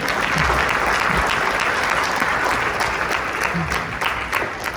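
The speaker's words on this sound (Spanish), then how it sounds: "un aplauso para ellos, por favor" A live audience breaks into sustained applause for a pair of performers, a dense, steady wash of many hands clapping close and loud with no pauses for the full stretch.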